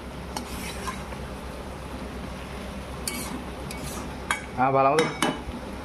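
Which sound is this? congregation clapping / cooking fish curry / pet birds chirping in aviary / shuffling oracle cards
cooking fish curry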